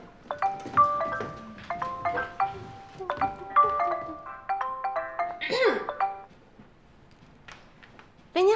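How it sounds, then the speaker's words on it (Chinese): Telephone ringtone chiming in a repeated melodic electronic pattern in short bursts at a real estate agency shop, with people talking over and between the rings before it stops. "对对，电话。"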